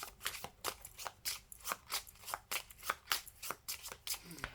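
Oracle cards shuffled up close for a reading: a fast, regular riffle of papery flicks and slaps in quick succession, fairly soft.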